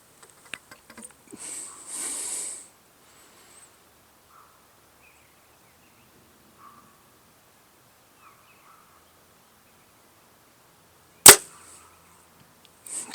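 Arrows loosed from an 80-pound bow at extreme long range: a faint string release early, then a long quiet stretch broken by one loud, sharp snap near the end, with no talking.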